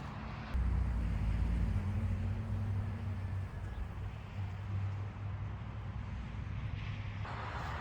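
A 1995 Acura Legend LS coupe with 150k miles rolls around a residential property on a slow lap, its engine a steady low drone that eases off partway through, with faint road and wind noise around it.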